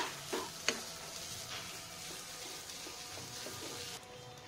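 A curry mixture for aloo dum is stirred and fried in a pan, with a steady soft sizzle and a few scraping clinks of a spoon near the start, the cooking sounds alone without talk.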